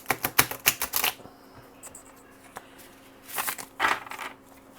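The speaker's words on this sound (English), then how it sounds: "I'm rifle shuffling these." A quick burst of rapid riffle shuffling of tarot cards up close, followed by a pause with small taps, then another short riffle of cards.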